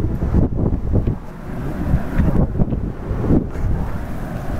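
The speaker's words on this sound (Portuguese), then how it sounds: "eu tô falando assim porque tá muito vento, tá ligado? Muito vento demais" Strong wind buffets the microphone in gusty bursts on an abandoned railway track high above a river, a loud low roar that swells and dips across the clip with no talk.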